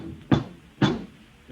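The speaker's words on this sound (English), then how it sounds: "There was a knock on the door." Two firm knocks on a wooden door, spaced about half a second apart, sound close and dry in a quiet room, a radio drama sound effect with no speech.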